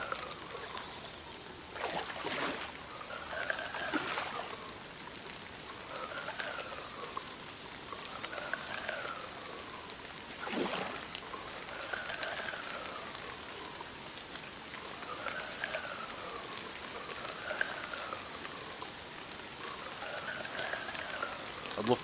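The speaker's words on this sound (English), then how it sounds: "And the rain's now started." Steady rain in the video game Dovetail Games Euro Fishing patters on a surface in a continuous soft hiss, with faint tonal chirps and occasional swooshes over it.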